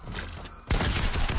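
Video game gunfire bursts in as a loud, dense volley partway through, sustained to the end after a quieter stretch of background sound.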